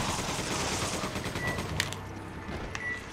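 Gunfire in Resident Evil 5 while shooting at fires, with a dense clatter of shots and blasts over a noisy backdrop, a few sharper cracks standing out near the end.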